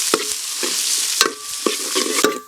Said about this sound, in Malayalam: ഉള്ളി ഏതാണ്ട് വഴന്നു കഴിഞ്ഞു.